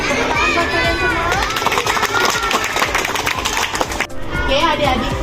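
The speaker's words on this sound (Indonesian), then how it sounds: "Tepuk tangan buat kalian semua." Fifth-grade children in an Indonesian language class clap and shout together. The noise is busy and close, with voices mixed through it and one brief dip near the end.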